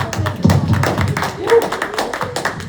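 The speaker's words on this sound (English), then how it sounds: "Did I give her a round of applause?" Audience applause at a community meeting, uneven claps and taps from a modest crowd, close and irregular, with a voice talking over it.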